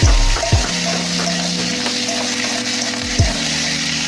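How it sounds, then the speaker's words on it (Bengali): Egg and potatoes fry in a home kitchen pan with a steady, close sizzle, broken by a couple of sharp stirring knocks near the start and again toward the end; no one speaks. "মাছের আলুটা একটু ভাজা ভাজা হয়ে গেছে, এবার ডিমটা দিয়ে দেবো।"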